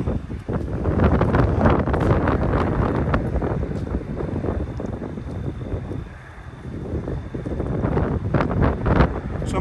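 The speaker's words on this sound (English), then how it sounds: "It ain't the first time I don't film in the wind." Heavy wind buffets the microphone in loud, continuous rumbling gusts outdoors on 100 Oaks Boulevard in Edmond, Oklahoma, easing briefly midway before surging again.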